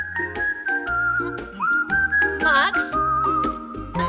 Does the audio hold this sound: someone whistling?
yes